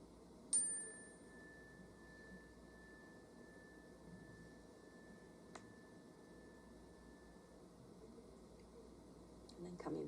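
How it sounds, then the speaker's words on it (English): A single chime rings out clearly in a quiet room during a classroom breathing exercise and then decays in a long, thin sustained tone. A fainter strike follows midway, and another soft hit comes near the end. "And then just listening to the sound of the chime."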